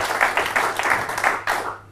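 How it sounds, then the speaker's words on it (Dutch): A crowd applauds steadily, many hands clapping in a dense burst that fades out toward the end. "Dames en heren, maak applaus voor Gerard Groot."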